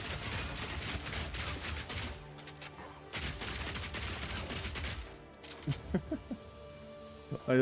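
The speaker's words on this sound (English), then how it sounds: "Just walk back and shoot." Rapid bursts of gunfire from the video game Path of Exile 2, dense volleys for about five seconds with brief pauses, then a few sparser separate shots near the end; loud and close, no talk.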